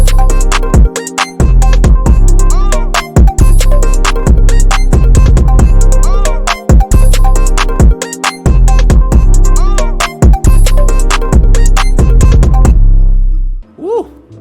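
A bouncy hip-hop beat plays loud and continuous, with punchy kick and snare hits driving a steady rhythm under a melodic sample, short drop-outs marking the pattern before the track cuts out and fades near the end.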